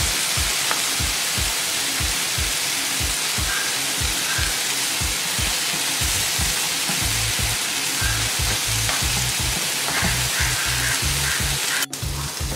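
Tandoori chicken pieces searing on a dosa griddle, a loud, steady close sizzle with a regular low thumping pulse running underneath and no voices.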